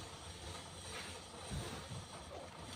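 A small electric fan motor, a chargeable fan's motor with black and red leads, spins with a faint, steady whirring hum and a light mechanical rattle, heard alone at low level.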